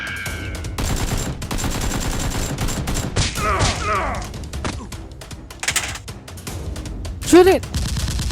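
Toy Nerf guns fire in a staged police SWAT-style Nerf battle, a dense run of rapid pops and bursts with sharp whistling squeals, while people shout and talk throughout.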